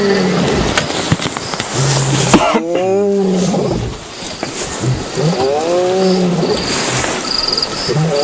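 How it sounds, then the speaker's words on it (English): Several male lions roar in deep, grunting series, one rising and falling call after another, with broadband outdoor noise and faint bird chirps behind them. "Barking off on its side, roaring away. Fat and happy male lions."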